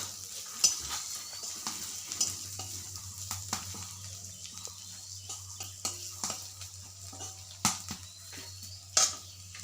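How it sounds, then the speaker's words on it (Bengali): Chopped onion frying in oil in a pan in a village kitchen, a steady soft sizzle running throughout with occasional sharper clicks and scrapes of stirring, heard close and fairly quiet with no talking. "এদিকে পেঁয়াজটা ভাজা হোক"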